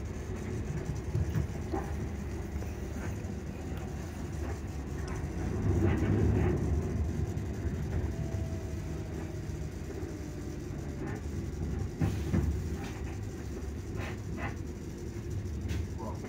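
A low, steady rumble of a passenger train riding the rails near Edinburgh Park, heard from inside the carriage, with a slight swell midway and faint background sounds.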